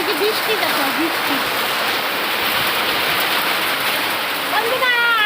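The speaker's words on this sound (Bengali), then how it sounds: "বন্ধুরা দেখেন কত বৃষ্টি হইতেছে, কি জোরে নামছে বৃষ্টি।" Heavy rain pours down steadily in a continuous loud hiss close by, with a voice talking over the downpour at the start and again near the end.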